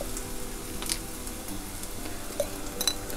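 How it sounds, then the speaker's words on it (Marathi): Ginger and garlic frying in a pan for a Malvani-style button mushroom dish, a steady soft sizzle with occasional spoon scrapes and light clinks against the pan as Malvani masala is stirred in. "आता ही आलं लसूण चांगली परतून घेतली आहे. आता त्याच्यामध्ये मी आमचा मालवणी मसाला घालते."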